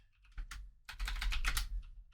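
Bursts of typing on a computer keyboard, a short run of keystrokes followed by a longer, denser flurry of clicks, close up and alone.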